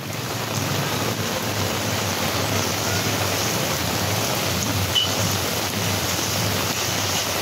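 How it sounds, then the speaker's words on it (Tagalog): Heavy rain pours down steadily outdoors around a barangay hall being demolished, a dense, even hiss that stays loud and unbroken from start to finish. "grabe ang lakas ng ulan dito"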